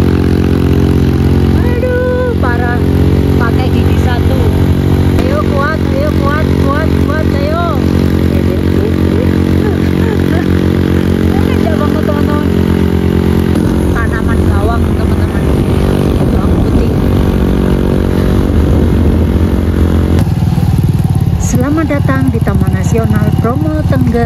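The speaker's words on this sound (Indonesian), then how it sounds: "Sepedanya gereng-gereng." Motorcycle engine straining uphill in first gear on a winding mountain road near Bromo Tengger Semeru, East Java, a loud, steady, continuous drone with shifting pitch, and voices talking over it.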